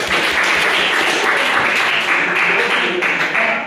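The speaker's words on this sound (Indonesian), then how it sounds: "Aplaus dulu." A university class in a Pancasila education course bursts into applause, with many hands clapping steadily and loudly for several seconds.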